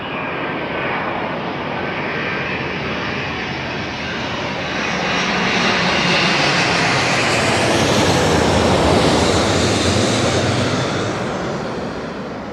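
Qatar Airways airliner coming in to land, a broad roaring jet engine rush that builds from a distant hiss to a loud, close roar and then slowly eases off, with no talk.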